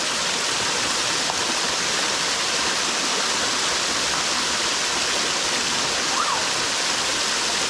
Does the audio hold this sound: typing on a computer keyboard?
no